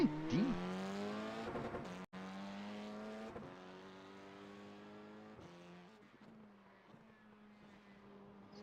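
A stock car engine in the iRacing game holds a steady, buzzing tone at a constant pitch, which dips briefly and drops lower near the end, moderately loud with no talk over it.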